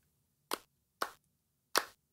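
Recorded hand claps in a pop song production, three sharp isolated claps spaced about half a second apart, clean and dry with silence between.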